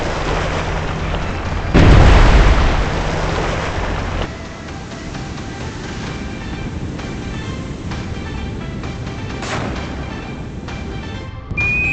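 A VLS missile launches from a submarine in the Cold Waters naval combat game, heard as a loud roaring blast that swells, holds for a couple of seconds, then fades into a long rumbling rush with no voices.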